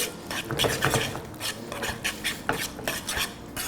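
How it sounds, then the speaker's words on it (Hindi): Cooked pasta being stirred and tossed into a white bechamel sauce in a pan, with repeated scraping and clinking of a utensil against the pan in an uneven rhythm, close and moderately loud, no talking. "पास्ते को इस सॉस में मिक्स कर लेते हैं अच्छी तरह से।"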